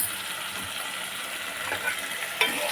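Prawns fry in a pan with a steady, close hiss and sizzle, broken by occasional scraping clicks of stirring against the metal.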